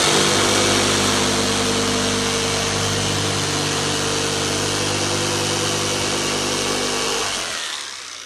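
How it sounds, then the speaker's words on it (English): A jigsaw cutting a box-shaped opening during an RV air-conditioner modification, a loud steady buzzing motor whine held for several seconds before winding down at the end. "I'm going to cut it out. And I prefer to use a jigsaw."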